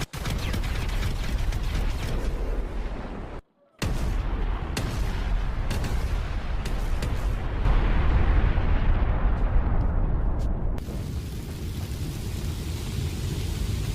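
A remote-detonated explosion destroys a yacht in the video game GTA, heard as a sustained loud roaring blast and rumble with crackling debris, briefly cut to silence then continuing as heavy booming fire noise.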